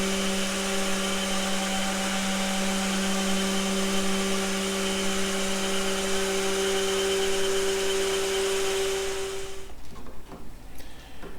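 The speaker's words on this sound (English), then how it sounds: "And here I'm using the Festool, I don't know, it's 1 or 5-inch edge sanders with an angle edge sanding attachment." A Festool edge sander with an angle edge sanding attachment working on a water-damaged teak cabinet, a loud steady whining hum that runs continuously and then winds down near the end.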